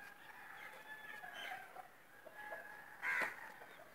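A broody hen clucks softly in her coop beside newly hatched chicks, with faint, low, scattered clucks and one brief louder squawk near the end.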